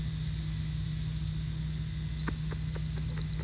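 A dog training whistle sounds in two bursts of rapid pulsed trills, each around a second long, loud and close over a low steady background hum, with a sharp tap between them.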